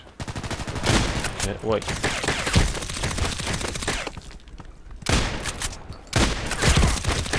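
Gunfire in the online shooter game Contract Wars, loud dense shooting bursts broken by brief gaps, with a voice speaking briefly over it.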